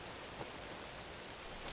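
Steady rain in the video game Alan Wake 2, a dense, even hiss of falling drops that fills the whole moment without pause or voices.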